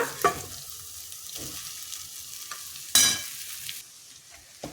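Steady frying sizzle of a tempering with stirring scrapes, and a sharp burst of hissing as a mixed beaten-rice (avalakki) mixture drops into the hot oil partway through.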